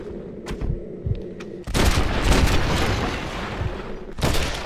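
Springfield rifle fire in the Western game Red Dead Redemption: Undead Nightmare, several sharp close shots followed by a long, booming blast and rumbling echoes, with another shot near the end.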